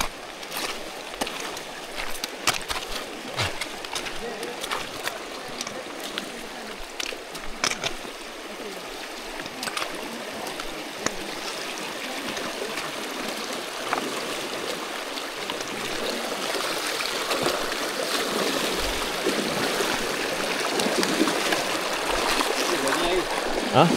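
Fast-flowing river water rushes steadily as hikers cross a large jungle river on the Gunung Tahan trek in Malaysia. The broad hiss swells louder over time, with occasional splashes and faint voices.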